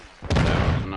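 Gunfire in Modern Warfare 2: a sudden loud burst cuts in and stays dense and sustained to the end, with no pause in the shooting.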